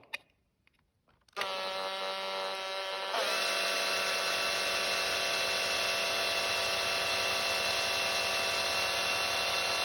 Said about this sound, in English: This is a 9/64 bit. And all we're going to do with it is just take the head of that rivet off